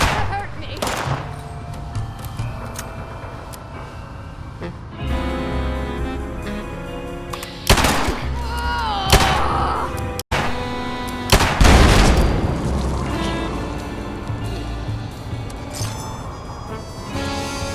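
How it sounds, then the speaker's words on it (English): Video game gunfire in an Atlantic City setting: several sharp bursts and booming shots stand out against a busy background of game sound, with loud reports spread across the stretch. "Less gunfire outside, so that's a good sign."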